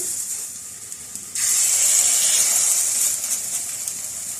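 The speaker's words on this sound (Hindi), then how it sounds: "जो पैटी हमने तैयार किए हैं ये पैटी इसमें फ्राई कर लेंगे" Burger patties drop into oil in a frying pan, setting off a sudden, loud, close sizzle that holds as a steady hiss after a quieter start.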